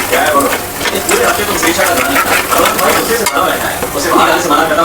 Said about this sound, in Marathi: चटणीला चांगलं तळून घेऊया आपण